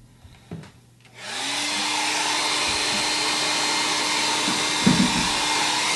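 A hair dryer switches on and blows steadily to dry a piece of artwork, a loud continuous whoosh with a faint rising whine, alone after a few quiet seconds, with a couple of small bumps near the end.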